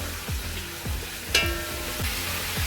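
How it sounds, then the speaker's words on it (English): Chunks of meat sizzle steadily in a pot for Transylvanian goulash while a utensil stirs them, with a regular scraping pulse about every half second and one sharper clatter midway. "Now I will give a good mix"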